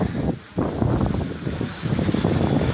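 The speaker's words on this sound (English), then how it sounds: "It is really windy right now." Strong wind gusts buffet an outdoor microphone during a drone position-hold test in heavy wind, a loud continuous low rumble with a brief dip before returning steady and dense.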